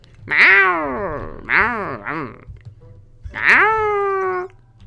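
Cats meowing inside the Minecraft video game: three loud, drawn-out synthetic meows, the middle one a quick double call, each rising and falling over a low background hum.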